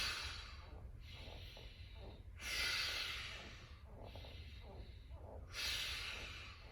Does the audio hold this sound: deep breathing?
yes